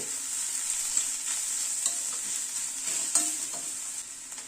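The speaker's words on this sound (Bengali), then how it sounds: "পেঁয়াজ, আদা, কাঁচা লঙ্কা সবগুলোকে ভালো করে ভেজে নিলাম।" Onion, ginger, green chilli and roasted crushed garlic frying in hot oil for an aubergine mash, a loud, dense, continuous sizzle with occasional soft stirring scrapes, heard up close.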